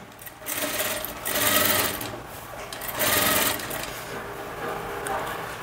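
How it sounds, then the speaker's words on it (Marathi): An electric sewing machine stitches a boatneck blouse in loud, close whirring runs, speeding up and easing off in several surges with short lulls between, the needle chatter steady throughout and no voices. "आता इथे आपल्याला दाब शिलाई द्यायची आहे।"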